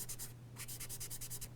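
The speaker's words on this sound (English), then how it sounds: "take a small piece of paper towels and start doing the smudging with them" A small piece of paper towel rubs across a charcoal drawing in quick, rhythmic scrubbing strokes, a soft dry swishing repeated about a dozen times, close and fairly quiet.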